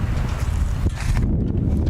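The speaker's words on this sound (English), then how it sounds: "It is sunny, but it is also quite windy." Gusty wind buffets the microphone at an outdoor high school softball field on a sunny day, a steady broadband rumble and roar filling the clip with a brief dip before surging again.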